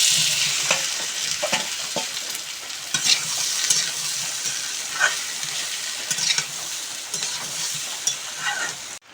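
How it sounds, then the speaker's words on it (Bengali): Fried potatoes tossed into a hot pan with panch phoron for Bengali aloo dum set off a dense, fairly loud sizzle, with scattered pops and stirring scrapes across the whole stretch and no talking. "এখন ভেজে রাখা আলু দিয়ে দেব।"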